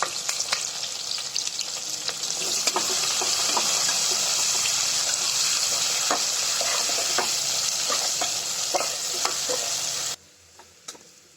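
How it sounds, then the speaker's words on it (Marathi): Onions frying in a pan for masale bhat, a dense steady sizzle with scattered stirring scrapes, close and even, cutting off abruptly near the end to a quieter background; no speech. "आता कांदा भाजत आलेला आहे"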